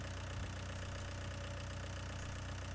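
A John Deere tractor engine runs at a steady idle, a continuous low, rough drone with no change in pitch, alone and moderately close.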